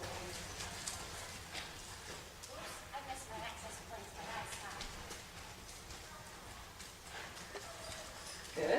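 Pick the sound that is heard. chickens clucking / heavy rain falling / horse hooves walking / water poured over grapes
horse hooves walking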